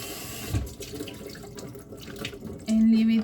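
Tap water runs over raw shrimp in a home kitchen sink, a soft broadband splash with a brief burst near the start and a steadier, louder stream at the end, no talking.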